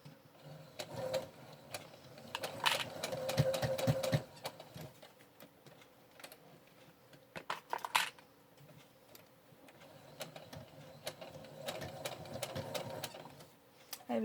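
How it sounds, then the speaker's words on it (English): Sewing machine stitching along a marked quarter-inch seam on fabric for a bear foot pad, in slow, intermittent bursts of faint whirring and clicking separated by quieter pauses while the fabric is maneuvered. "let's take this over to my machine, and we're going to stitch right along the little mark seam right there"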